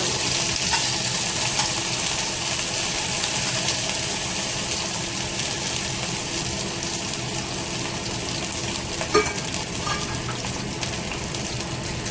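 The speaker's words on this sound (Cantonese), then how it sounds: "我哋擺喺度煎下佢" Steamed potatoes fry in hot oil in a wok for a shrimp and potato stir-fry, giving a steady close sizzle and crackle with a few small clinks, with no one speaking.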